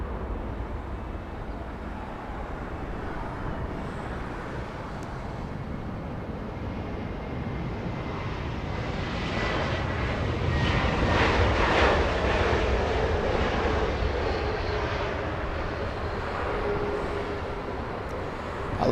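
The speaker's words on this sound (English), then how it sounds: "American 2283 flying in from Miami, Florida" An American Airlines airliner arriving from Miami at LAX passes as a distant, rumbling engine roar that swells toward the middle and then slowly fades against steady background noise.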